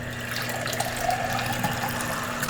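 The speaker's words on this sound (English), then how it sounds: "put some water in there" Water runs steadily into a drinking glass in a kitchen while a protein shake is made, a continuous close splashing stream with no talk.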